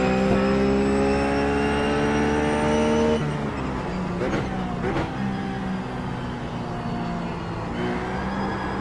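Ruf GT3 race car racing at Spa in the iRacing sim: a loud, steady engine drone with strong harmonics that drops in pitch about a third of the way through and then settles into a lower, rougher roar.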